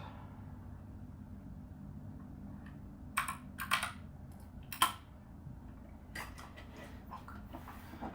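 Computer keyboard typing during CAD modelling for a Corvette prerunner body, with a few scattered keystrokes and short bursts of clicks over a quiet room hum, no talking.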